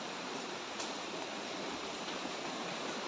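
Strong river current below Taytay Falls in Majayjay, Laguna rushes as a steady, faint broadband wash of flowing water with no other sounds.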